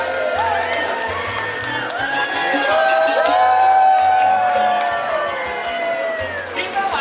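Crowd on a San Antonio riverbank cheers and whoops at passing river boat passengers, a loud sustained mix of shouts and voices near the water.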